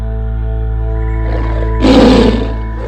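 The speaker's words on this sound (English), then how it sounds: "A tiger's roar can be heard as far as 3 kilometers away." A tiger lets out a single loud, rumbling roar that swells near the two-second mark over a steady low drone, close and strong with no talking.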